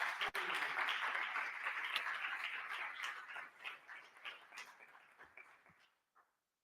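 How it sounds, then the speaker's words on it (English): Applause at a corporate annual general meeting for the chairperson, a dense crowd clapping steadily for about five seconds before thinning out and stopping. "a big round of applause for the chairperson of Inseta, Umbovu."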